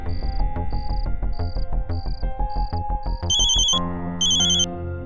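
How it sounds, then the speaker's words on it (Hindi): A telephone ringtone in a police station plays in a repeating electronic pattern of short tones, then shifts into a brighter, higher ringing melody, loud and close. "फोन बज रहा है मैडम सर, मगर कोई उठा नहीं रहा है।"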